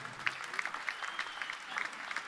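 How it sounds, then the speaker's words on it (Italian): Audience at a concert applauding, a sparse, crisp clatter of individual claps, fairly quiet and heard at a distance, with no one speaking. "Guardatevi, fatevi un grande applauso"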